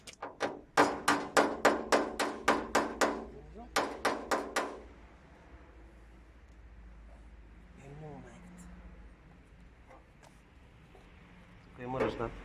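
Rapid series of hammer blows on a 1987 Moskvich 2140 car being restored, about a dozen sharp metallic strikes in two bursts, followed by quieter background clatter and a faint voice.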